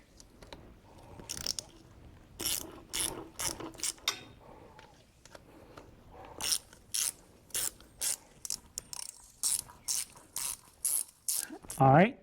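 A hand ratchet tightening 8 mm bolts on a Honda Africa Twin motorcycle, crisp bursts of rapid clicking in repeated strokes, loud and close, separated by short pauses.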